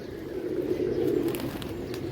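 Pigeons coo steadily in a low, continuous murmur as they come down and settle, a close flock sound with no talk.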